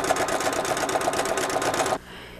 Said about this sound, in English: That noise you hear is the needle stitching through heavier threads.